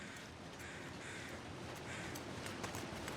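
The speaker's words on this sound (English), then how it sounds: "I do hear carrion crows." Carrion crows caw in The Long Dark survival game, a few repeated calls set low and distant in a steady outdoor wind bed, with no talking.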